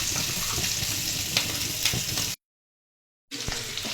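Fish frying in a hot pan gives a steady, close sizzle with scattered crackles. The sound cuts out to silence for about a second partway through, then the frying resumes.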